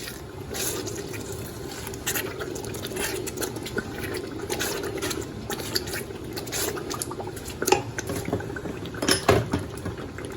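Peppers fry in a pot for smoked jollof rice, with soft bubbling and crackling plus scattered small pops, quiet and continuous.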